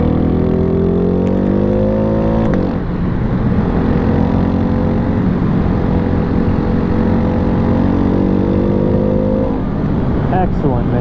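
A Ducati Hypermotard 698 Mono single-cylinder motorcycle engine droning loud and close while riding through the Arizona desert, pitch climbing through gears with a brief dip near the start, steady and dominant throughout.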